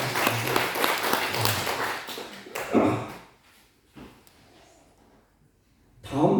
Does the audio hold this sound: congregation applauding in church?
yes